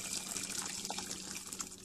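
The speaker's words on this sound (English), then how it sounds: "I'm going to add some hot water." Hot water pours steadily into a cooking pot holding chicken, a soft continuous gushing splash that is faint and brief.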